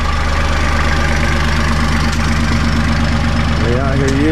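A Kubota L3800 compact tractor engine runs steadily at a close, loud idle with a constant low rumble, used on a roof repair job.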